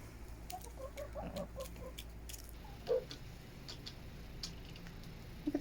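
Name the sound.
chickens clucking in winter coop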